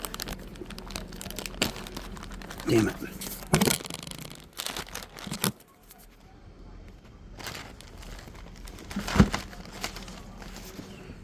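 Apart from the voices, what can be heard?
plastic bag crinkling while handling paperwork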